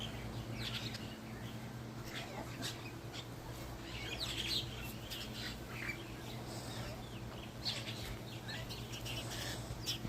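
Several different birds chirp and squawk in short, scattered calls of varied pitch, faint and somewhat distant over a low steady hum.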